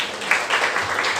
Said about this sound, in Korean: 다시 한번 저희 오늘 좋은 강연해주신 모경정 의원님께 큰 박수 부탁드리겠습니다.